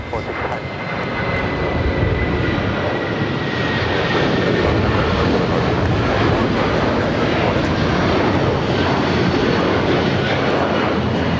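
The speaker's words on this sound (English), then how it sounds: "United Airlines Flight 1331 heading to Newark in the 757 at 300." A United Airlines Boeing 757 jet roars on takeoff at LAX, its engine noise building and then holding loud and steady, with a faint high whine threaded through the rumble.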